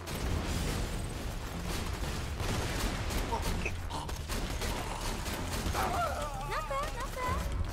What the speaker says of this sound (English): I'm literally just shooting in between all of them